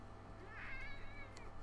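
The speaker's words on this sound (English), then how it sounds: "Yes, there's a cat by us." A cat meows once up close in a room during a tabletop tournament game, a short clear call with a steady background hum and no talk over it.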